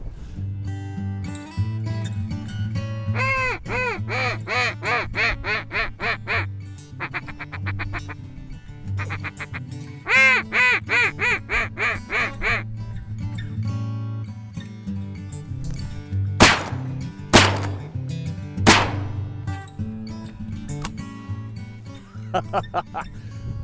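Ducks quacking in rapid repeated bursts with goose honks mixed in, loud and close, during a duck and goose hunt in North Dakota, alongside occasional voices and a few sharp gunshot bangs.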